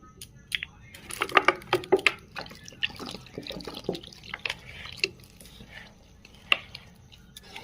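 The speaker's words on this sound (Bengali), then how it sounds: "আমি আগে ভালো করে মিশিয়ে নিই, তারপর জল দিয়ে মাখবো।" Banana fritter batter is worked by hand with water in a home kitchen, giving wet squishing and sticky slapping sounds that come in irregular bursts, with drips and splashes, close up and fairly loud.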